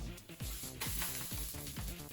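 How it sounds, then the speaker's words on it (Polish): A steady sizzle of pancake batter frying in a hot pan, crackling continuously beneath low rhythmic thumping music. "Smażę na dwie patelnie"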